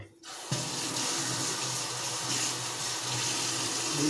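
A kitchen tap runs water into a sink while green onions are washed, a steady close splashing rush that starts abruptly after a brief quiet moment and continues without talk.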